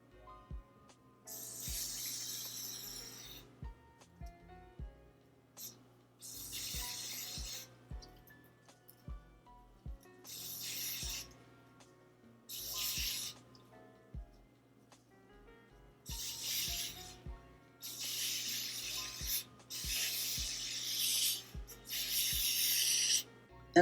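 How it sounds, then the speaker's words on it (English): Oil sheen sprayed from an aerosol can onto a hair weave track, about ten separate hissing bursts of a second or two each, fairly close, with quiet gaps and small handling clicks between them. "I spray the oil sheen on the track itself"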